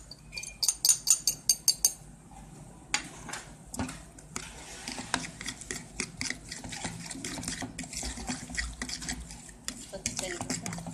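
A utensil stirs an egg mixture in a bowl for egg paratha, with a quick burst of sharp clinking taps first, then continuous close scraping and swishing.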